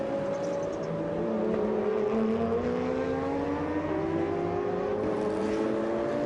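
BMW Z4 GT3 race car at the Spa 24 Hours, engine droning steadily with rising and shifting harmonic tones as it accelerates, loud and continuous with crowd-free track ambience and no talk.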